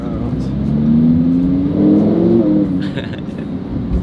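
A Lamborghini engine revs while driving, a loud rising drone swelling twice as the car accelerates, close and continuous over four seconds.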